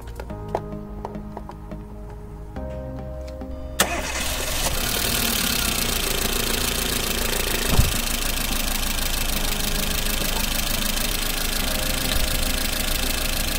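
A car engine cranks and catches after a few seconds of electronic beeping during a battery tester's start test, then settles into a loud, steady idle that carries on to the end.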